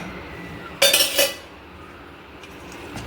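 Semolina batter for suji uttapam being stirred in a bowl: a short burst of metal spoon clinking and scraping against the bowl, fairly close, then quieter faint stirring, no talk.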